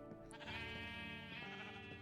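Sheep on a ship in Minecraft bleat in a few quick, wavering calls, faint and close together, with no talking.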